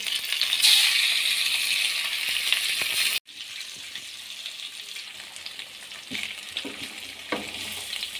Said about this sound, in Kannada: ಮಸಾಲೆ ಹೆಚ್ಚಿ ಇಟ್ಟಿರೋಂಥ ಫಿಶ್ನ ಬಾಣಲಿಗೆ ಹಾಕಿ